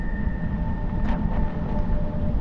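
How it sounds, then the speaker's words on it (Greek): An electric tram rolls past nearby during heavy snowfall in deep cold, producing a steady low rumble with faint whining tones and no talking. "Και έχεις μετά το τραμ να περνάει από δίπλα σου"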